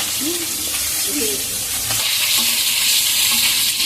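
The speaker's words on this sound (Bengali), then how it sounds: "এই মাছগুলো কিন্তু খুব ফুটে, সাবধানে ভাজবে।" Tangra fish fry in hot oil with a loud, dense, continuous sizzle and crackle, heard close up and on its own.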